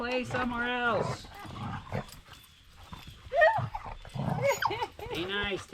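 A puppy playing on a wooden cabin deck, whimpering and yelping in short bursts and clattering about, close by, with someone talking over it.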